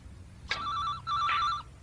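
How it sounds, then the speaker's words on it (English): A telephone bell rings in two clear bursts, each about half a second long with a short gap between them. The ringing is close and loud and sounds alone, with no talk over it. "You have to excuse me. Phone."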